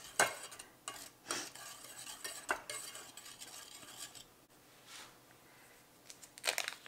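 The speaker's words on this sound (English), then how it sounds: "So let's put that in there and just mix it up well." Sugar being mixed into the dry ingredients for a rustic apple tart, with a utensil scraping and clinking around a bowl in uneven strokes, moderately close, pausing between bursts of stirring.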